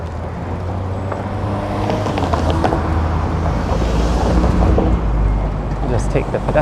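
Steady city traffic rumbles around a rider in downtown Toronto on a warm March day, cars driving close alongside with a constant low road drone and wind, while someone talks over it.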